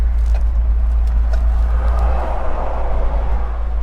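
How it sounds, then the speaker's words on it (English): A 1978 Fiat 124 Spider's exhaust gives a deep, steady low rumble while driving, loud and continuous under road and wind noise. "that rumble from the back is the exhaust"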